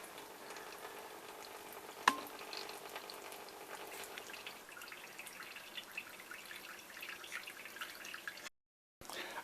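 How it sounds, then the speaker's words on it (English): Water drips from a cloth Millbank bag filter into a collecting vessel, a faint steady trickle with a soft spattering texture and one sharper drop near the start, quiet and close with no voices. "After the initial first flow, it soon settles down to 1 drip after another."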